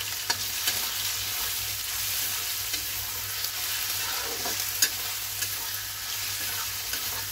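Chopped chicken, onion and garlic frying in a pan for chicken fried rice: a steady close hiss of sizzling oil with scattered scraping stirs and light taps, with no talking.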